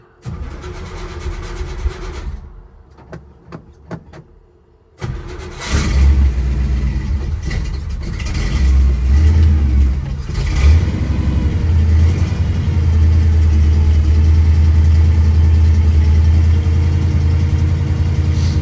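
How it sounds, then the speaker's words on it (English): A carbureted off-road vehicle's engine cranks in short bursts, then catches and roars to life, revving briefly before settling into a loud, steady rumbling idle close by. "Fires up pretty easy, and then as soon as you hit the gas once, turn the choke off, it'll drop the idle back down"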